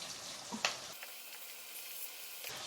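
Potatoes and other hard vegetables stir-fry in a pan for curry, giving a faint, steady sizzle with a brief clank of a utensil near the start.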